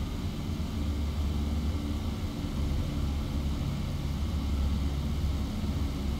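Steady low rumble of an aircraft engine idling in X-Plane 11, a constant, even drone with no voices, holding at the same level from start to finish.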